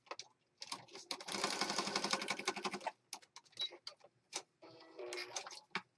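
Sewing machine stitching across a paper junk journal pocket, a close rapid mechanical chatter in a couple of bursts, separated by pauses and small clicks and taps of the machine and paper being handled.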